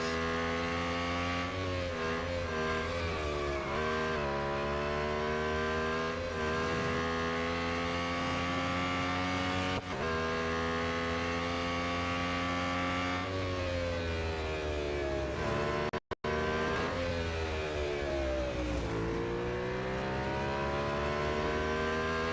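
A Lotus Emira GT4 race car engine in the Real Racing 3 video game drones steadily, rising and falling through repeated revs and gear shifts, loud and continuous with a brief dropout near the end.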